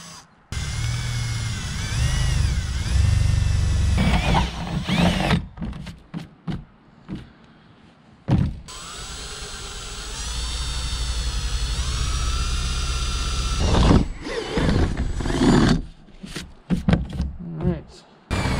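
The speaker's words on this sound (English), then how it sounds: "now I can start drilling the larger holes to get the jigsaw in" A power drill bores larger holes through the roof of a 5x8 cargo trailer for a vent, two long whining runs close by, separated by pauses with knocks and handling noise.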